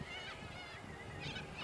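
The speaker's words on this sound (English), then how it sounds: "A big flock of birds over there." A flock of birds passes high overhead outdoors, its thin honking calls rising and falling in a few distant bursts over a steady low rumble.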